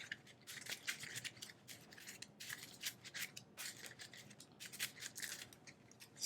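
Playing cards being shuffled during a Legendary Marvel deck-building card game: repeated quick papery riffles and rubbing bursts that run steadily through the clip, close and fairly quiet, with no voices.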